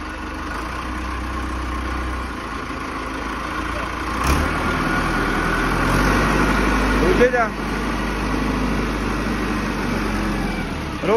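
An Arjun 605 tractor engine idles with a steady, low, close rumble and rises slightly when revved, while people talk over it.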